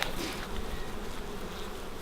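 Worker honey bees buzz steadily and densely in an opened hive that is being pried apart with a hive tool, a close, continuous droning swarm that fills the space without pause.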